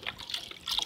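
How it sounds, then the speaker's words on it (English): Chicken stock is poured into a thick, cooked black bean soup, a brief close trickle and splash of liquid that rises briefly near the end. "I'm gonna put another"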